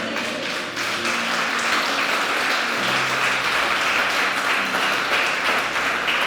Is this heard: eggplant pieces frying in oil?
no